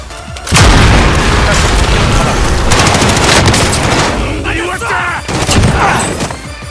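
Call of Duty Warzone gameplay with a loud boom, then sustained rapid gunfire and repeated shots close up, while players talk over the battle.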